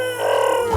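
A cartoon monkey gives a bad pigeon imitation, a short, loud, tonal warbling coo that wavers briefly before cutting off.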